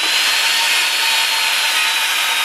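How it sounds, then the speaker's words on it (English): Power saw cutting wooden header boards for a greenhouse frame, a loud, steady, unbroken high-pitched whine running close by throughout with no talk. "now that I got all the full-length studs cut, now it's time to recut the header material."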